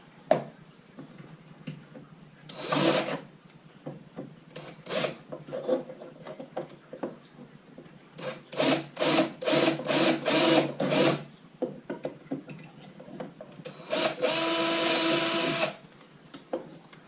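A drill bores pilot holes for mounting a Garmin Panoptix ice fishing bundle, heard as several short whirring bursts close by with a rapid run of pulses and a final longer burst, separated by quiet handling.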